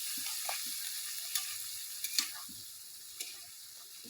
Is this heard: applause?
no